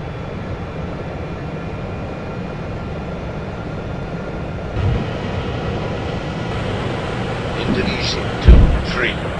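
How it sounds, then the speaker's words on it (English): An airliner departing Ambon Pattimura Airport on runway 04 with its engines at full takeoff power: a loud, steady, broadband roar that swells slightly midway, with a few short thumps near the end. "Clear for takeoff runway 0-4, Indonesia, 2-3."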